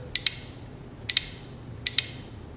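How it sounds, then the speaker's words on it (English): Three pairs of crisp mechanical clicks from an automotive relay under test, each a quick double click, spaced about a second apart, close and distinct over a quiet background. "That's the sound of a working relay"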